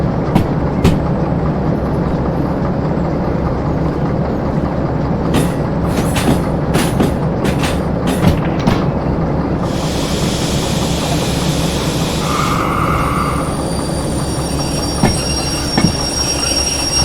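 A train rolls forward in the railway game Derail Valley, a steady low rumble of wheels on rails with clanking and bumping transients, then a bright squeal-like tone and hissing brake noise in the second half; no one speaks.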